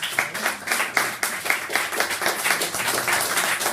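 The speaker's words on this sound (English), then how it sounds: "Big round of applause for" Applause from a small audience at a poetry reading for the poet Victoria: close, loud clapping in an uneven rhythm, with no voices over it.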